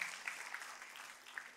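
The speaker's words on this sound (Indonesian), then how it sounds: "tepuk tangannya boleh paling meriah buat Tuhan kita." A church congregation applauding, a short burst of faint, distant clapping that fades quickly.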